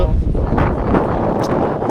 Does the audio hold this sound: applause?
no